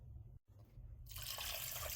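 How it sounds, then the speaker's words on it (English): Water pouring into a soup pot, a quiet low trickle that briefly stops, then a brighter, steadier splashing stream as the pour picks up. "I'm going to fill this up with water to rinse it out, and then I'm going to put the water into this pot for the soup"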